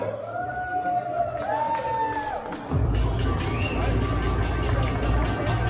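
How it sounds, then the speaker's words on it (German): A crowd at a Salzburg tattoo festival stage show cheers and whoops for the performer Enigma the Puzzle Man. A dense, loud roar swells up about halfway through, with shouts rising above it. "Gebt ihm einen großen Applaus"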